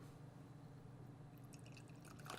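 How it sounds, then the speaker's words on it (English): Elijah Craig bourbon is poured into a glass, a soft low pour that turns into brighter trickling and splashing near the end, close and alone without talk. "let's pour ourselves a wee dram here."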